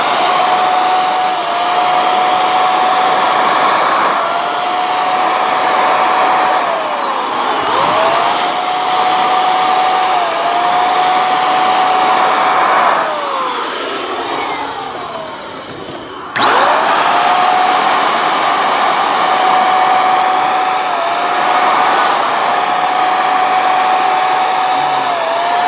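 A Dekopro electric paint sprayer runs with a loud, steady blower roar and high whine, briefly winding down and restarting partway through, close-up with no talking.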